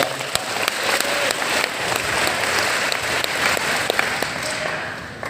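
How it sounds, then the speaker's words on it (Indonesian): An audience at a santri digital broadcasting camp gives sustained applause, a dense, steady wash of many hands clapping throughout, with no speech over it. "Tepuk tangan untuk Chandra."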